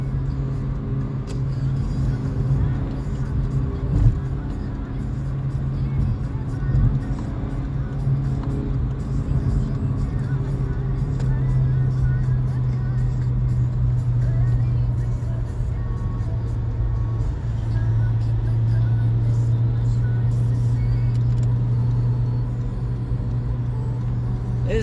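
A 2017 Honda Civic Type R with a turbocharged engine accelerating, heard from inside the car as a steady engine drone that rises gradually in pitch over about twenty-five seconds, with road noise underneath.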